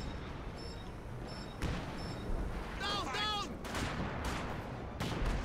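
Artillery barrage in the Company of Heroes 2 game on the Lienne Forest map, with repeated heavy booms and crackling impacts spread across the stretch, broad and loud, while players talk over it.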